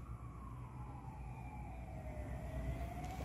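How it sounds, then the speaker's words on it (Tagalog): Wailing emergency vehicle sirens sweep slowly downward on an empty city street at night during a lockdown, steady and moderately distant over a low rumbling background with no talk. "ang daming wangwang pa rin"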